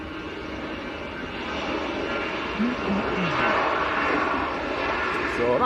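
An EasyJet airliner bound for Athens rolls down the runway at Manchester Airport for take-off, a steady broadband engine roar building slightly in strength, with people chatting over it.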